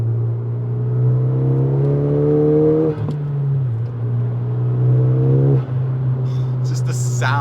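Honda Civic Si engine with a steady turbocharged drone, rising in pitch twice as it revs up through the gears, each pull ending with a short dip at the shift, heard from inside the car.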